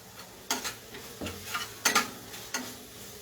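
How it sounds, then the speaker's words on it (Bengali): Masala frying in a pan for paneer bhurji while a spoon stirs it, with a quiet sizzle under repeated close scraping and clacking strokes at an irregular rhythm. "মোটামুটি আমার মশলাটা ভাজা হয়ে এসছে।"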